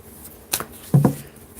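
Two quick papery riffles of cards being shuffled, short and close, in an otherwise quiet room.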